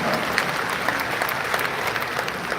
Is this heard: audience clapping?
yes